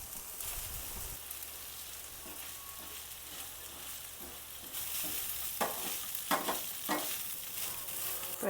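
Ragi semiya frying in a pan, starting as a soft low hiss and then growing louder, with crackling sizzle and rhythmic bursts of stirring scrapes toward the end, close by and without talk.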